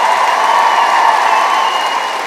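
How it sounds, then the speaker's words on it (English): A large awards-show audience at the 2015 Young Scot Awards cheers and applauds in one steady, dense wash of clapping and crowd noise that runs loud and unbroken from start to finish. "please give yourselves the biggest cheer"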